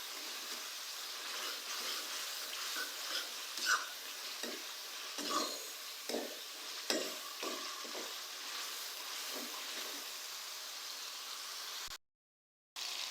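Spices roasting in a pan for gobi masala give a steady soft sizzle and hiss, with scattered scraping stirs from a spoon, fairly faint and close, broken by a brief silent gap near the end.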